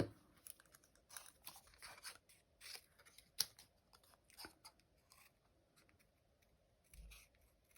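Scissors snip through a paper card piece at a crafting table, a run of quiet, crisp cuts in irregular bursts with a few sharper clicks between them.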